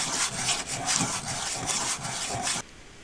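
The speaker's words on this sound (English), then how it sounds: "just sanding the remaining pad level" Steady rhythmic scraping of sanding brake pad material level, back-and-forth strokes with a gritty rasp, close up, stopping abruptly near the end.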